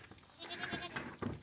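Several goats bleat inside a barn with an attached loafing shed on a homestead, overlapping calls rising in short bursts at moderate distance with no talking.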